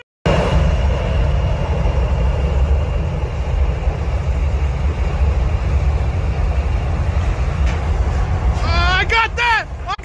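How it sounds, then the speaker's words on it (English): An American CRJ jet's engines run at high thrust during engine testing beside a hangar, a loud, continuous, steady roar with broad rushing noise, and a voice breaks in near the end. "this American CRJ plane was undergoing through engine testing process and the hangar gets blown away due to its engine thrust"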